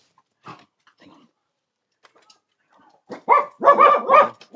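Dogs bark in a quick run of loud, close barks after a few faint whimpers and yelps, with near silence around them.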